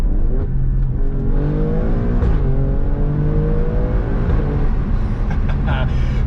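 A 510 hp Alfa Romeo Stelvio Quadrifoglio accelerating hard, engine revving and climbing through rising pitch sweeps with gear changes, loud and close throughout.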